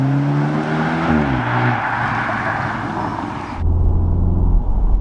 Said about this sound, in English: it's a four-cylinder, but it sounds fantastic